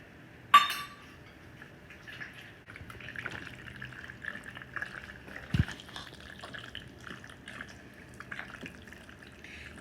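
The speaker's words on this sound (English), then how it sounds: "But I am going to add the last bit of milk." One sharp glassy clink, then milk trickles quietly into a pot of mac and cheese with faint dripping and low kitchen rustle.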